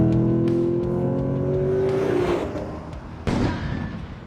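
A Lexus GS-F sports car engine drones steadily, then its pitch climbs before a sharp, loud surge of revving near the end.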